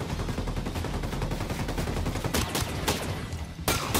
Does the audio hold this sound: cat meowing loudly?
no